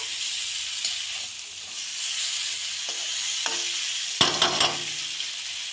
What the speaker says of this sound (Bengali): এখন আমি এই মাছগুলো দিয়ে দিলাম, সবকটা মাছ দিয়ে একটু নেড়ে চেড়ে